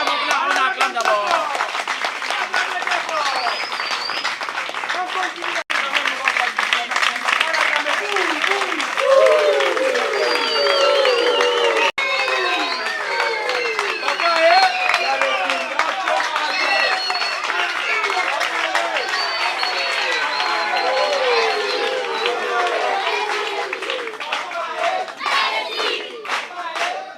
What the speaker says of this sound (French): Allez-y, on acclame d'abord.